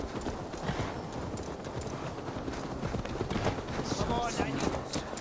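Horse hooves clip-clop steadily at a walking pace in Assassin's Creed Valhalla, with a brief whinny and game ambience beneath.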